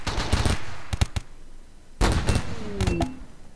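Short bursts of gunfire from a Rimworld battle, a quick clustered volley at the start, a few isolated shots, then another dense burst after a pause, fairly close and crisp with a faint falling tone at the end.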